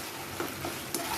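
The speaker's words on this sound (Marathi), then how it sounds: "फ्लेम थोडी वाढवून आणि पटापट असं" Cauliflower stir-fried quickly in a pan over a raised flame for a paneer veg biryani, a steady close sizzle with a few soft scraping stirs.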